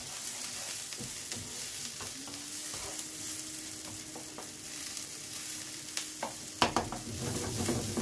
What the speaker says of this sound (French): J'oublie pas de remuer mes oignons également, qui commencent à prendre, à cramer un peu.